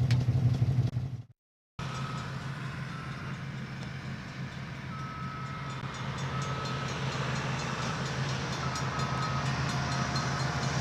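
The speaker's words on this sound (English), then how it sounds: "I've never seen construction equipment go down rails before, such as this." Construction equipment travelling along railway rails, a continuous rumbling, rattling roll with a faint tonal whine, steady and fairly close after a brief silent break.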